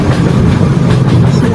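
A train in a railway video game runs along steadily, with a loud, continuous rumble and rhythmic clickety-clack of wheels on track throughout.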